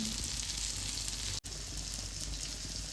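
Pomfret fish frying in oil in a pan, a steady, dense sizzle close up and fairly loud, broken only by one very brief dropout, with no voices.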